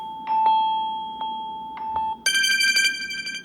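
The Crystal Echo ringtone on a Samsung Galaxy S20 Ultra 5G phone sounds a few sparse, glassy pings that hang in the air, then a shimmering cluster of high crystalline tones, heard up close with nobody speaking.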